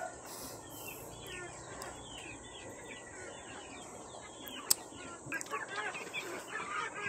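Heritage chickens and chicks in a small backyard coop keep up a steady, moderately quiet chorus of peeps and chirps, with a soft low rustle underneath and a brief sharp click partway through.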